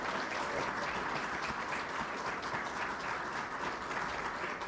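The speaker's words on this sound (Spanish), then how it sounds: "Un fuerte aplauso para Víctor." Steady, even applause from a book-fair audience honouring author Víctor Espinosa, a continuous wash of many hands clapping at moderate loudness without pause.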